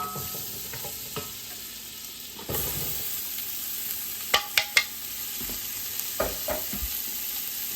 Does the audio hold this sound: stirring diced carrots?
yes